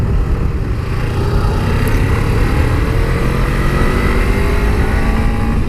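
A 2017 Suzuki GSX250R motorcycle is ridden on the road, its engine droning steadily and loudly with pitch shifting as it accelerates, mixed with constant wind rush.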